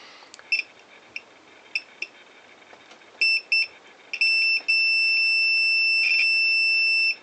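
A multimeter beeps while checking continuity on the rusty ignition coil of a vintage outboard motor, first with several short chirps and then with long, sustained high tones, clear and close with no talk.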